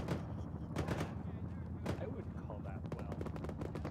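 Video game gunfire bringing down a Chinook helicopter: rapid bursts of shots and heavy artillery-like booms in a dense, continuous battle mix, with voices talking over the action.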